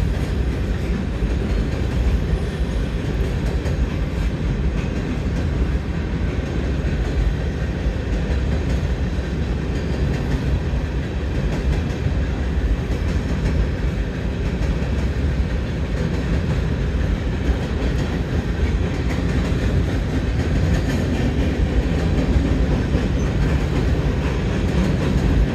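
A triple-headed I&O mixed freight train with open hoppers heading east rolls steadily past, a loud continuous rumble of wheels and rail clatter with no letup.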